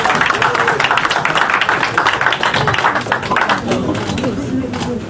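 A dense crowd at a press conference in a stadium claps and cheers loudly and continuously, a broad wash of applause with voices mixed throughout.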